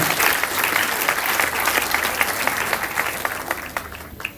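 Guests at a wedding celebration applaud in a dense, lively burst of clapping that holds steady and then thins into scattered claps near the end.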